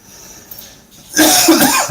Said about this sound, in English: I'm sorry to keep coughing in your ear that way.